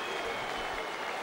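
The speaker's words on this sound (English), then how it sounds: "All around the auditorium, people on their feet cheering and bellowing their approval for that." A boxing arena crowd at a Marco Huck vs Vitaliy Rusal EBU title fight cheers and applauds in a dense, steady roar, with a commentator talking over it throughout.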